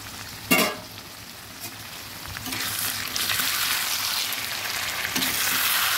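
Chicken curry (desi murgir jhol) sizzles steadily in a pan while it is stirred, with a soft knock near the start and a frying hiss that grows slightly denser and louder over the clip.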